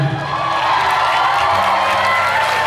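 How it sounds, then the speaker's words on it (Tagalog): A live crowd cheers and applauds throughout, a steady, loud wash of shouts, whoops and clapping that is close and unbroken. "maraming salamat sa walang sawang palakpak at sigawan"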